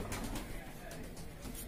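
A pigeon coos softly, close by and faint, amid a low background rumble.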